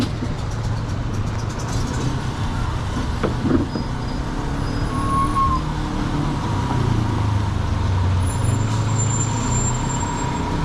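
A truck idles and rumbles at a busy construction site in Monroe, where a commercial spill is being handled; the steady, loud low engine drone continues throughout with no clear pauses.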